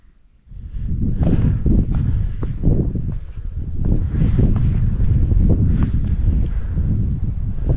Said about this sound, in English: Yeah, the wind just died off a bit.